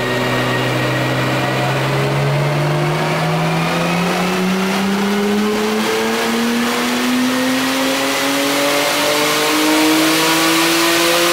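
A stock Nissan GT-R engine running on E85 fuel with a Haltech tune revs loud and close, its pitch climbing smoothly and steadily through one long continuous pull with no talking.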